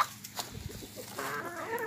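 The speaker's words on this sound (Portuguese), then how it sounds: "minhas cocó, meus galos" Hens and roosters clucking on a small agroforestry farm, a few short close calls and murmurs over quiet background.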